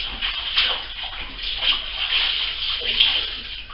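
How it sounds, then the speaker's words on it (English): Running tap water splashes steadily as hands are washed under it in a kitchen during terrine preparation, a close and even rush of water with faint sloshing. "Wash my hands there."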